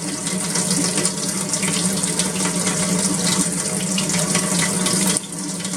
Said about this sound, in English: Once done, wash the razor under running tap water.